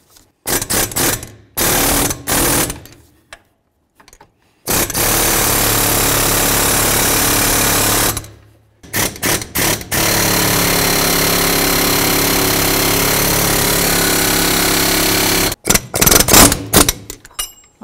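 A power tool, likely an impact wrench, breaks loose and spins off the fan clutch nut on a 1992-2000 Chevy Tahoe, firing in several loud sustained bursts separated by short pauses and brief rattles.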